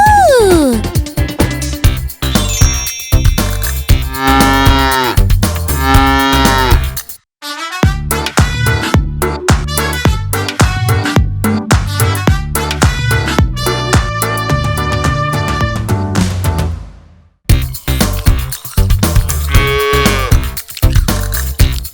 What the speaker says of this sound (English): Let's see what the cow says. The cow goes... Moo! Moo!